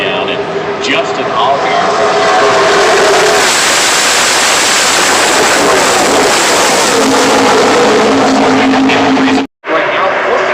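Race cars roar past at Talladega, a loud sustained engine wash that fills the whole stretch with crowd noise beneath it, cutting off briefly near the end before resuming.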